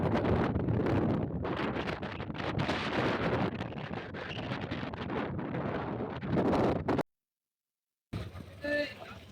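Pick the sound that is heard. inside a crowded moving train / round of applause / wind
wind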